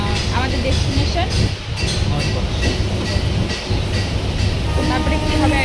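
An almost empty passenger train runs along with a continuous rumble of wheels and carriage rattle from inside the coach, steady and close, while a person talks over it.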